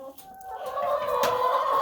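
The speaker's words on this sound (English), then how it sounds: "So with these chickens here" Several hens cluck close by in a small group of ageing laying chickens, their calls rising into a steady, busy chorus over the short stretch.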